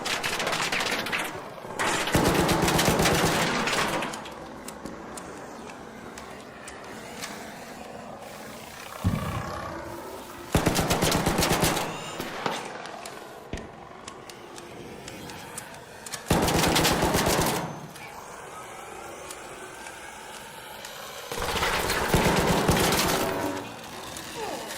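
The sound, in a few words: gunfire from a video game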